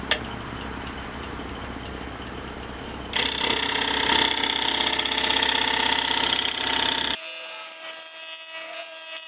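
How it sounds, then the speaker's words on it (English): A scraper works across a beech live-edge bowl spinning on a wood lathe, giving a steady whirring hum with fine ticking texture that swells louder midway, then drops back to a thinner motor drone. "I'm taking the scraper and angling it"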